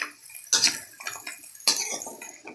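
Mixed vegetables, including chunks of squash, are stirred in a cooking pot with shrimp and mussels, making wet clinks and scrapes of the utensil against the pot, with two louder knocks.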